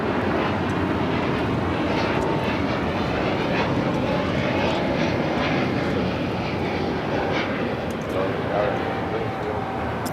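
A Frontier Airbus A321neo jet at Los Angeles International Airport, its engines roaring steadily and loud throughout, a continuous broadband rumble with people talking over it.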